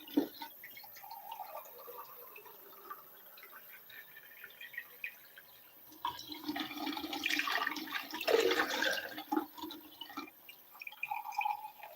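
Water from a tap runs quietly while a pair of scissors is rinsed, with soft trickling and dripping that swells into a fuller splashing rush partway through.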